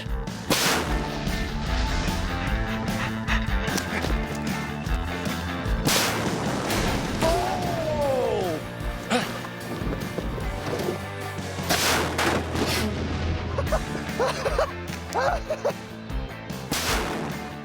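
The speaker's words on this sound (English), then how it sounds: "it's time to take out the alien boss and his henchmen in a blazing bazooka shootout" A blazing bazooka shootout against an alien boss and his henchmen, with loud sharp blasts and cracks erupting repeatedly over a dense, noisy background, several heavy booms spaced a few seconds apart.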